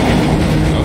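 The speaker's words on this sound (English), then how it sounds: "So our train is passing by" Loud, steady rumble of a train passing close by in the video game Twin Mirror, a dense continuous roar with no talking over it.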